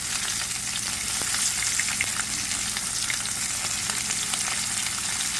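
Walleye cheeks fry in a pan of oil, a loud, close, steady crackle and sizzle with scattered pops throughout and no talking.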